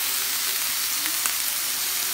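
Steak sizzling on a grill during an at-home hibachi dinner: a dense, steady crackling hiss with scattered small pops, one slightly sharper pop partway through, close and continuous.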